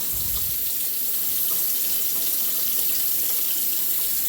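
Tap water runs steadily into a sink while a can is rinsed out during kitchen cooking, a continuous close hiss and splash with no talking.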